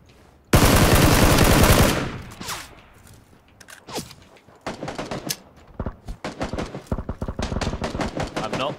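A long, loud burst of automatic fire from PUBG opens the scene, followed by scattered single shots, clicks and footsteps with a voice talking briefly over it.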